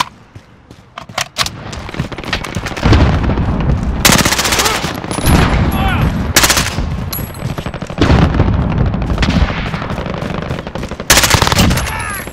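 Rapid automatic gunfire from AS VAL and SVD Dragunov-style rifles in the first-person shooter Modern Warfare, loud sustained bursts with sharp gaps and game effects throughout.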